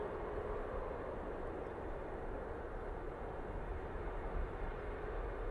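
A Boeing 737 MAX 8 jet taking off from runway 05 left, a steady broad roar of jet engines heard from a distance, continuous and even throughout with no voices.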